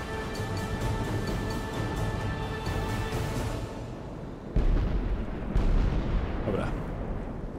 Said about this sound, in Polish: Artyleria łupie.